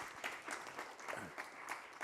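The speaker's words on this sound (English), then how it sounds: "please give her a round of applause" A quiet, thin round of applause rises from an audience at a community afternoon session in Harlem, with scattered distinct claps coming through at a distance.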